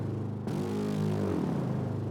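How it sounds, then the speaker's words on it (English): A strange background synth layer, played solo, enters abruptly as a dense buzzy drone whose pitch glides and bends downward over about two seconds, steady in loudness and with no talk. "This new one that I added is this kind of weird thing that just goes on in the background and it has this pitch envelope."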